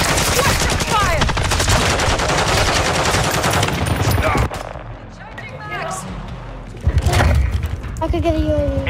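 Dense, loud gunfire rattles from Call of Duty Modern Warfare 2 in bursts of automatic fire and shots for about four seconds, then thins to scattered shots, effects and a single heavy blast, with voices talking over the action.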